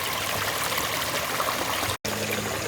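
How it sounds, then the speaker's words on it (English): Water cascades over frame rock in a pondless waterfall, tumbling down a small drop into a reservoir, a steady close rushing and splashing wash that continues without talk. "You have water coming off this frame rock over here and collapsing in on itself over here."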